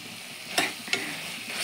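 Chopped raw plantain sautés in a hot pan with a quiet steady sizzle, broken by two sharp scraping stirs of a spatula.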